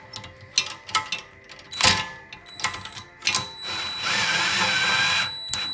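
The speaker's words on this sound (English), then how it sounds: "I can just grab my 17 millimeter wrench and just easily tighten this up here." A 17 millimeter wrench tightens a bolt on a front roller bracket, giving a series of close metallic clicks and ratcheting taps, followed by a steadier, louder grinding rasp near the end.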